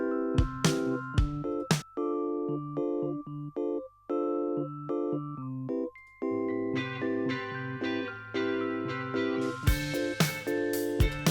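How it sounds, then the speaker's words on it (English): Suitcase Mark IV electric piano playing a high-octave downward spiral in a pop production, heard as bright, bell-like descending notes over a held low note, with busier chords joining in later, close and without voices. "I added in this extra electronic piano, which again is the Suitcase Mark IV"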